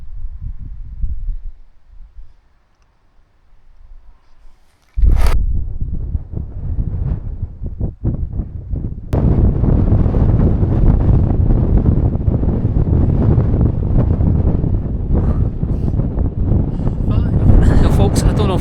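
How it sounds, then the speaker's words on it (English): Strong wind buffets the microphone on a high mountain summit in the Cairngorms, roaring loudly and steadily after a brief lull, with low rumbling gusts dominating throughout. "I don't know if you can hear me with the wind"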